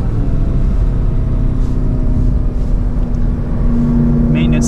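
2023 Dodge Durango SRT Hellcat V8 engine on the Road America race track, a loud, constant engine roar at maintenance throttle heard from inside the cabin, with a steady drone and light wind and road noise.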